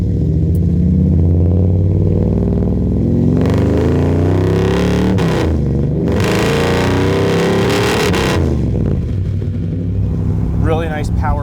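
A 1955 Chevrolet Del Ray with a 383 engine revs hard, its exhaust rising into loud sustained pulls with brief lifts between, the engine note dominating throughout.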